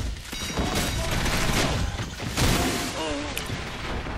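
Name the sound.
gunfire from a video game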